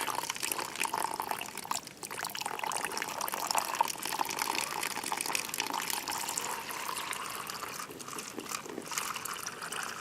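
Water trickling and pouring steadily down an erosion model, carving channels into river paths that run out toward mulch; a continuous close splashing flow for the whole stretch, with no talking.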